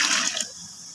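Water splashes briefly into a large pot of parboiled sela rice for chicken pulao, a short bright gush that cuts off quickly and leaves a faint hiss.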